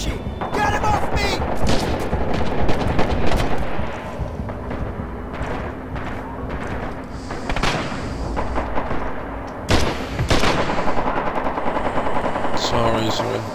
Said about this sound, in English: Enemy fire! Enemy fire!